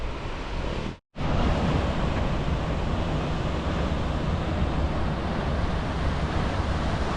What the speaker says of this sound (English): Before I cross it, the Lake Britton Dam. It's the Pitt River / Lake Britton.